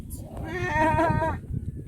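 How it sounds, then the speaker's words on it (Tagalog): A goat gives one drawn-out, wavering bleat at close range during a beach picnic, with soft voices and background noise around it. "Goat."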